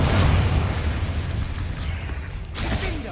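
Confringo blasting curse explosion in Hogwarts Legacy: a loud, deep boom opens and rolls into a sustained rumbling roar, with a second swell of blast noise near the end, and no voices.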